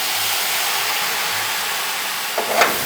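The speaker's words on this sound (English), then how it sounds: "We're kind of sautéing it. Yeah, sautéing it." Mushrooms sautéing in butter in a pan, giving a steady broadband sizzle throughout, with a brief rustle of movement near the end.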